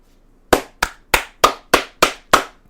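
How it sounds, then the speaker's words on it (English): A single pair of hands claps seven times in a slow, even rhythm, each sharp clap close and distinct against near silence. "A round of applause for J.J. Abrams"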